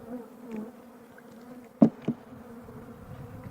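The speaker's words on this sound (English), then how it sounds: "Tom, there's a lot of bees here." Bees swarm over the frames of an open beehive, a soft continuous buzz with a couple of sharp louder bursts as insects pass close by.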